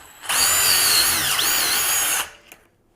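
A power drill bores a hole in a wooden board for a simple farmhouse desk, its close, high whine running steadily for about two seconds with a brief dip in pitch before stopping abruptly, followed by a faint click.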